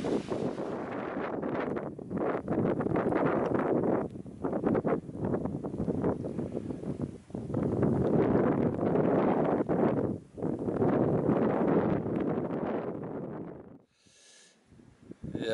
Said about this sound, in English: I just thought I'd get down out of the wind.